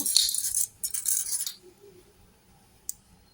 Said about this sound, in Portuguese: e vou prendendo com o meu clips